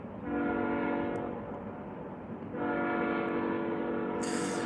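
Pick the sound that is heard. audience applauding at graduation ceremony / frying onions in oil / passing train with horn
passing train with horn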